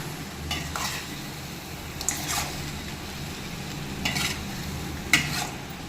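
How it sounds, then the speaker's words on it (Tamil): Quail pieces are stirred with turmeric powder in an oily pan for a quail gravy, giving a continuous low sizzle broken by several brief scraping strokes of the spoon. "இப்போ இது கூட கொஞ்சமாக மஞ்சள் தூள் ஆட் பண்ணி நல்லா கிளறி விட்டுக்கலாம்."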